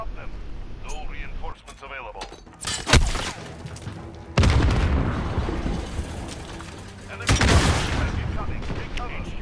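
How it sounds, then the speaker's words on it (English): Gunfire in a video game: bursts of shots and explosive booms at about three, four and seven seconds, with sustained rattling fire between them, under a voice talking throughout. "Shooting and shooting."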